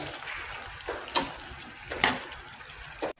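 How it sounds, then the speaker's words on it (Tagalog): Water poured into a cooking pot of creamy chicken and pork kaldereta, a steady splashing flow with a few sharper clinks or splashes, close by. "Nilagay din tayo ng konting tubig dyan."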